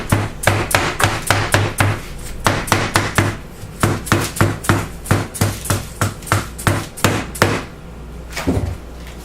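Repeated hard pounding on a heavy cast aluminum mold used for bath bombs, loud close knocks in a steady rhythm of roughly two per second, with a short pause near the end.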